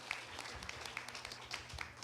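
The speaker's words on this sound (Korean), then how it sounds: "박수 부탁드리겠습니다." Faint, distant applause from a small audience at a university fashion styling class, scattered clapping running for about two seconds.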